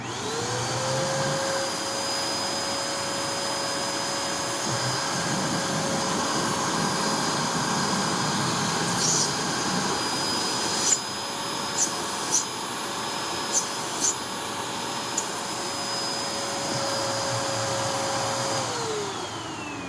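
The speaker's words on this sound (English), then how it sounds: "Let's take a look at the suction, and I will make an attempt to cover the suction relief valve." A Hoover NanoLite vacuum cleaner runs with a steady whining hum, its pitch rising as the suction relief valve is covered and dropping back near the end, with a few faint knocks and clicks midway.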